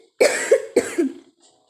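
A person with a bad cough lets out two harsh, loud coughs in quick succession, each with a short trailing rasp, close to the microphone and followed by quiet.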